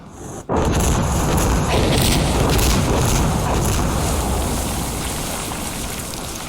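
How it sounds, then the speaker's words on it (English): Rocket strike explosions in the video game Insurgency Sandstorm: a sudden loud boom sets off a dense, continuous rumbling roar of blasts that stays heavy and close for several seconds, then tapers slightly. "we need a rocket strike on this location."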